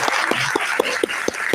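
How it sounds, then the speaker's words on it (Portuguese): An audience claps at a community festival in Passo de Camaragibe, a quilombola territory, with sharp, evenly spaced claps in a quick burst close by. "Palmas para ele."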